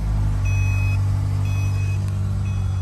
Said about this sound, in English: start the vehicle, it starts